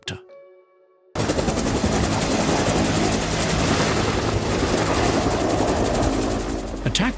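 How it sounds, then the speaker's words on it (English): After a brief soft tone, a loud helicopter roar kicks in with rapid rotor chopping and bursts of machine-gun fire throughout. "Attack helicopters are heavily armed aircraft used for combat missions."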